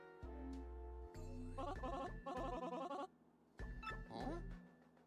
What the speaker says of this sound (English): Let me shout, that is a ringtone.